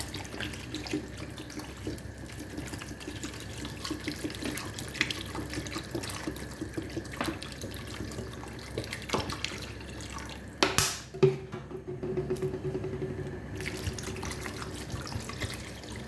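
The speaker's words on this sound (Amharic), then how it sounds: "ሁሉንም የሚያስፈልገን በቃን ያህል ውሃ እንጨምራለን" Tap water runs steadily into a cooking pot for about ten seconds, a continuous close splashing rush, followed by a few brief metallic clunks and a quieter trickle.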